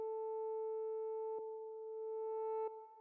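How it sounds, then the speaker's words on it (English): Analog-style square-wave synth tone through a low-pass filter with no envelope, its pitch gently wobbled by an LFO: a single steady held note, clean and sustained, with two small soft clicks partway through. "We have a square wave, and that's going into this low pass filter with no envelope. And then I have a little bit of LFO1 modulating the frequency there."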